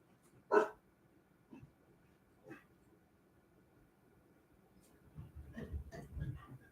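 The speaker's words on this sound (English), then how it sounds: "My dog was barking." A house dog gives a few sharp barks heard from a distance. One bark comes early and is the loudest, softer yelps follow at scattered intervals, and there is a short cluster near the end. No voices.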